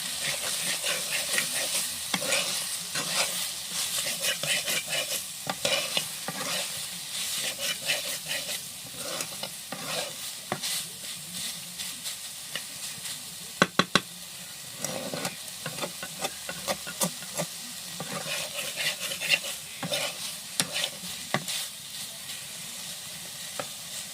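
Chicken momo filling is stirred and fried in a pan, giving a continuous close sizzle broken by scraping stirs and a few sharp clanks of the utensil against the pan.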